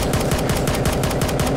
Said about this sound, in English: Oh my god, we getting shot at.